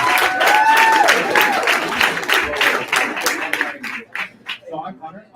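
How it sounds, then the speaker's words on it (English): Audience applause at a live shopping summit swells into dense, loud clapping, then thins into scattered individual claps over about five seconds, with a voice speaking near the end. "let's give another round of applause"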